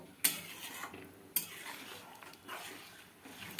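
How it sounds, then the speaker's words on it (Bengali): A spoon clinks twice against the pot as cornflour slurry is stirred into simmering chicken soup, followed by soft scraping and stirring sounds, fairly quiet and close. "এই যে কর্নফ্লাওয়ারটা গুলে নিয়েছি এটা আমি দিয়ে দিচ্ছি পুরোটা দিয়ে দিলাম"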